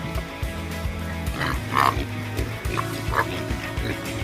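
Farm pigs grunting and squealing excitedly over food waste, a busy cluster of short nasal grunts and a few higher squeals at close range over a low steady hum.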